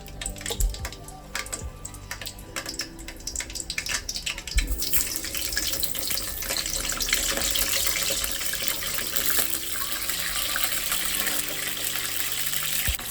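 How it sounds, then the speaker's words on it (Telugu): Whole brinjals frying in hot oil for stuffed eggplant curry, a steady sizzling hiss that starts softer and swells into a louder, brighter crackle after a few seconds, with no talking. "మనకైతే వంకాయలు అయితే వేగుతున్నాయి చూడండి"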